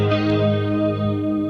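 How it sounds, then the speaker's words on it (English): A 2017 Squier red sparkle electric guitar with a fat neck rings out a sustained clean chord through a chorus effect, loud and close, with a shimmering, wavering tone. "There's my chorus."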